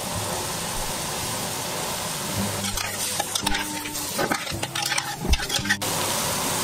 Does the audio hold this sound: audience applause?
no